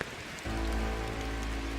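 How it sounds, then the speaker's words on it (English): Steady rain falls on a surface, a constant soft hiss of drops with a low continuous rumble, even and unbroken throughout. "I gazed out towards the steady rain"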